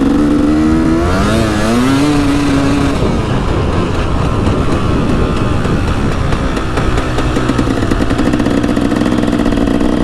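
A dirt bike engine runs loud and close at a dirt park flat track, revving up and down through rising pitch sweeps, then holding a rough, continuous roar.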